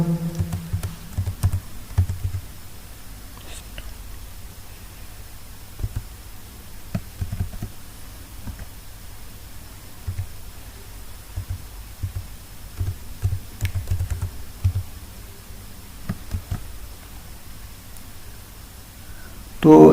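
Code typed on a computer keyboard, light scattered key clicks in uneven bursts under a man's intermittent speech over a steady hum.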